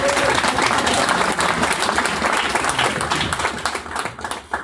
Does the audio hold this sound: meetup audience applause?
yes